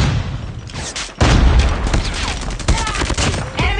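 A frag grenade explosion and gunfire in Call of Duty Mobile, heard as a sharp close blast followed by rapid bursts of shots in a short, dense exchange.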